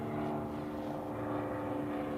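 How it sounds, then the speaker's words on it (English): A single-propeller private plane flying overhead, its steady, droning engine hum holding at an even level throughout with no other sounds. "Looks like a single prop."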